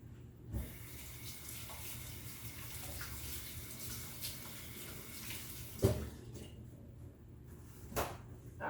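Hands rinsed under a running kitchen tap during baking cleanup, a steady close wash of water with a few brief knocks and splashes, no talking.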